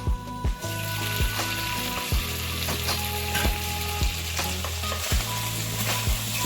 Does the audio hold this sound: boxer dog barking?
no